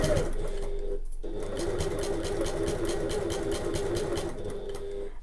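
A sewing machine stitches a tote bag, its close, even motor hum and needle clatter running almost continuously with a brief pause near the start.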